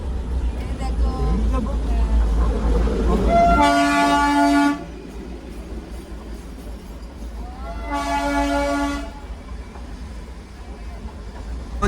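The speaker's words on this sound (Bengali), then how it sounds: "এটা ডিজেল ইঞ্জিন" Diesel locomotive of the Darjeeling hill train sounding two long horn blasts, the second after a pause, over a steady rumble, with voices talking in the background.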